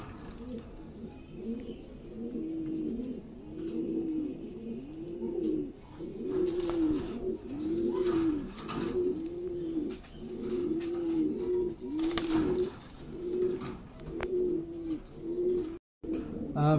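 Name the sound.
Lahori pigeons cooing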